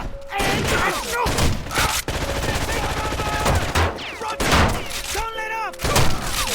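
Dense gunfire in the Rainbow Six Vegas 2 video game: rapid automatic bursts and single shots crackle almost continuously, loud and close, with brief gaps and a voice talking at times.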